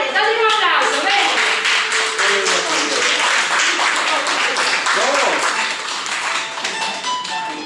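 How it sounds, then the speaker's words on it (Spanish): Audience clapping along at a day-centre performance by a folk group, dense rhythmic applause sustained throughout and slowly tapering near the end. "dadle un aplauso"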